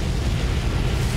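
A plane crashes in the War Thunder video game, heard as a dense, loud, continuous rumbling blast of low noise that carries through the whole moment without a break.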